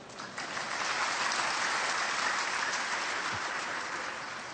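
Sustained applause from an audience at a Burmese literary talk, a dense steady wash of many hands clapping that holds loud throughout and tapers slightly at the end.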